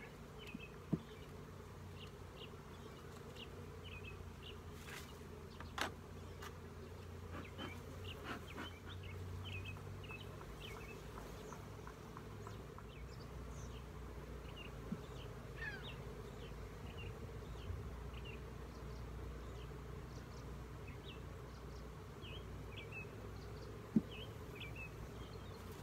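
Honeybees buzzing around a beehive with a screened bottom board during feeding, a continuous low hum from many insects with a few close individual passes and faint birdsong far off.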